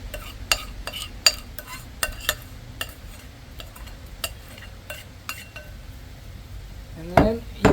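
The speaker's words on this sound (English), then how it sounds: "take the back of the spoon and press it down" A spoon pressing and tapping sugar down into a container, a series of sharp clinks and scrapes at an uneven rhythm, close and fairly loud, with a faint voice at times.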